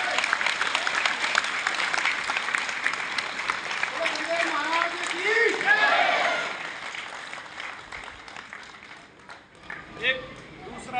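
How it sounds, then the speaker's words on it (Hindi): Steady applause from a small gathering fills the whole stretch, clapping under a voice, rising slightly midway before thinning out toward the end. "मैं ताली बजाकर जी न्यूज़ का स्वागत करता हूँ"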